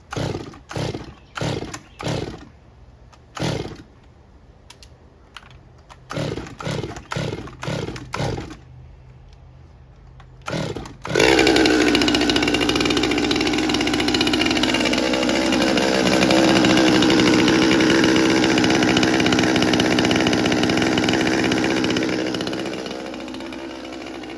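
A Stihl MS200T chainsaw with a bogging fault is pulled over repeatedly in short bursts, then catches and roars loudly on full choke with the throttle advanced, holding a harsh steady run before easing off slightly.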